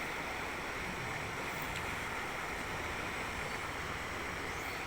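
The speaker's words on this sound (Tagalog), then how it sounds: "Kusog pang tubig, kusog pa." Strong floodwater rushes loudly through a swollen creek damaged by heavy rain, a dense continuous roar with no pauses, close and steady throughout.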